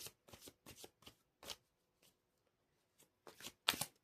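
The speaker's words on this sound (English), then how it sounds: "Let's get some Mystic Forest Oracle cards." A deck of Mystic Forest Oracle cards shuffled in a quiet room: a series of crisp riffling bursts in an uneven rhythm with brief pauses between them, close and fairly soft, with no talking.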